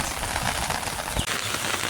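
Steady first monsoon rain falls in a village, a dense, even hiss of drops hitting a surface, loud and close.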